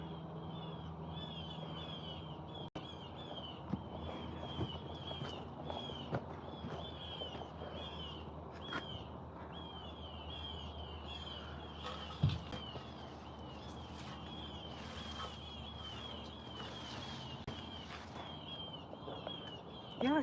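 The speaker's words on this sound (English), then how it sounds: "Y'all hear them birds?" Birds sing outdoors in a backyard garden, with repeated bright chirps running steadily through the whole stretch at moderate distance over a low background rumble.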